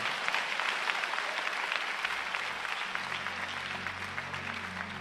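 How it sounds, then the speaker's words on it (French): A congregation at a French-language church sermon breaks into applause, a dense, even wash of clapping hands with a low hum running underneath, no voices standing out. "l'Éternel, un applaudissement pour ça."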